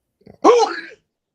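A single sharp sneeze, close and loud, preceded by a short intake of breath, then quiet.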